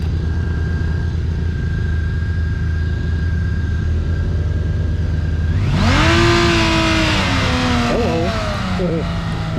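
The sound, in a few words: motorcycle engine revving from 1,500 to 6,000 RPM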